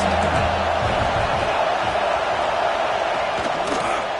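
Stadium crowd at a college football game between Notre Dame and Ohio State roaring steadily on a third down, a dense continuous wash of cheering and shouting that stays loud throughout.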